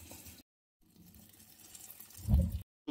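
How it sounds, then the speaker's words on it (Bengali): Water is drained from boiled rice for fried rice, a steady close gush of running liquid that swells and splashes strongly near the end, broken by short silent gaps. "এবার জল ঝাড়িয়ে নিচ্ছে খুব সাবধানতার সঙ্গে"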